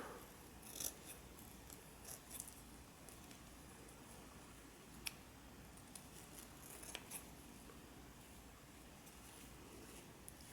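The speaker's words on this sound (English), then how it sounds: "So I'm just going to use my scissors and cut them out." Quiet, close snips of scissors cutting ribbon loops, scattered at irregular intervals over a soft background hiss.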